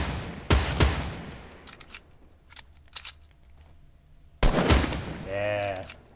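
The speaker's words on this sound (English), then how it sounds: "Who are you shooting at?" Gunfire in the video game Fortnite, a few sharp loud shots and short bursts spread across the stretch, separated by quieter gaps, with a brief tonal game effect near the end.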